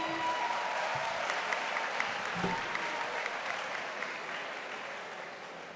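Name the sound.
audience applause at a conference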